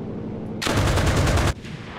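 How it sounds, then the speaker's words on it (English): Automatic gunfire in the World War II shooter Enlisted bursts for about a second in a rapid, loud rattling stream, then cuts off to quieter background. "I think I just shot him through the roof"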